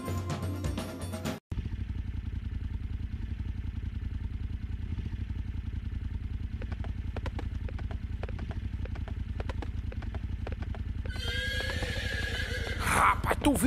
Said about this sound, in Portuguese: lá se foi o meu cavalo